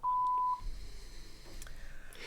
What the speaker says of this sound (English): I love this beep button.